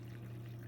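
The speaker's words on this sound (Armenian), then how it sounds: "լցնելու ենք գոլ ջուր, եռման ջուր չենք անելու" Warm, not boiling, water poured steadily into a bowl with lemon, a continuous soft rushing splash that holds even and close throughout without pause.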